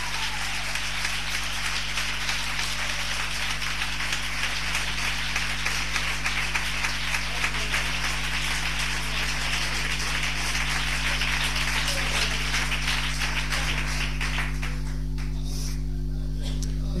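Audience clapping and applauding in a hall for a long, sustained stretch of dense, even hand claps, with a low steady hum underneath and the applause thinning near the end.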